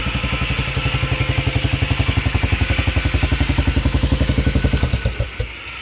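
Polaris Sportsman 500 HO ATV engine idling loud and close, a fast even chugging thump that holds steady for several seconds before briefly dropping off near the end.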